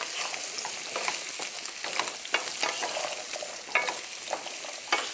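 Vegetables being stirred and sautéed in a hot pan give a steady crackling sizzle, with repeated scraping clatters from a utensil at an uneven rhythm, close and moderately loud with no voices.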